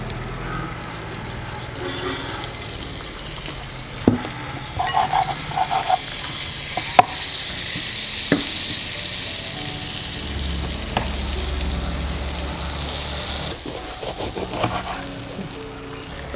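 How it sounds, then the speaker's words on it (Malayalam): Butter melting in a hot pan for a tomato and egg omelette, giving a steady soft sizzle with occasional light clicks of a utensil, no talking. "ഇനി നമുക്കതിലേക്ക് കുറച്ച് ബട്ടർ ചേർത്ത് കൊടുക്കാം."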